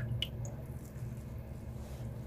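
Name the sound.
squeezing soaked bhalla dumplings to drain oil and water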